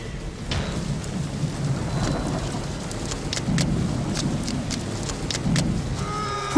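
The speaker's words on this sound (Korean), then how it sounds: "비가 오네요." Heavy rain pours steadily in a stormy movie scene, a dense hiss carrying low rumbles of thunder and scattered sharp cracks, with no voices over it.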